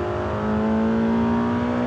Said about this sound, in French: la voiture que je conduis n'a plus que 8 cylindres sous le capot. C'est la nouvelle GTC 4 Lusso T, T pour turbo, V8 turbo, de 610 chevaux.